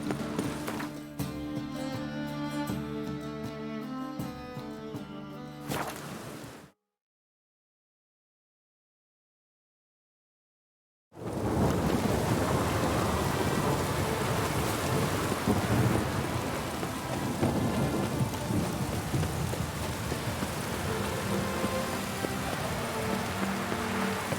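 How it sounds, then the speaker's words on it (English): Thunderstorm in The Witcher 3: Wild Hunt: heavy, steady rain with deep rolling thunder. A clear musical passage comes first, then a stretch of complete silence, then the loud storm, with a few clip-clopping hooves. "A storm, damn it."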